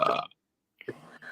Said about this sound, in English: First burp of the night.